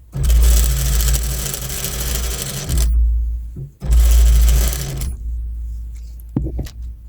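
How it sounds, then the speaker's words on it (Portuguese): A sewing machine stitches the pressed side reinforcement of a bra in two loud, close runs of rapid whirring. A pause falls between them, and soft handling clicks follow at the end. "Eu vou colocar a minha máquina aqui, ó, aonde eu ver que vai começar"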